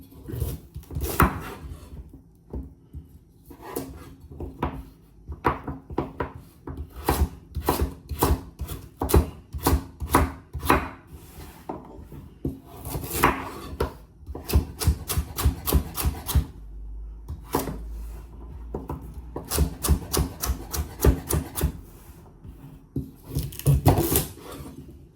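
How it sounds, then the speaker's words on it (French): Carrots being chopped on a cutting board, with bursts of quick rhythmic knife strikes separated by short pauses, close and fairly loud throughout. "Couper les carottes."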